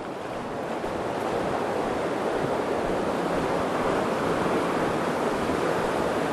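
Fast-running water flows beneath a small walking bridge along the Sea to Sky Highway in Canada, a dense, steady close rush with no voices.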